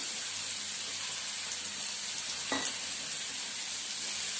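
Chopped onion, garlic and ginger fry in hot oil with asafoetida in a pan, giving a steady close sizzle throughout, with a brief clink of a utensil partway through.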